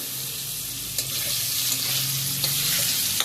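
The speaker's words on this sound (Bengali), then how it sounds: "লম্বা লম্বা করে টুকরো করে কাটা আলু দিয়ে দিলাম" Long-cut potato pieces sizzling and frying in oil in a pan for a rohu fish curry, a steady close crackle with a few stirring clunks.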